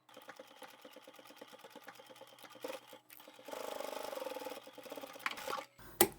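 A sewing machine triple-stitches across layers of fabric on a top-loading tissue holder, its motor whirring in short bursts and then running steadily in a longer close run.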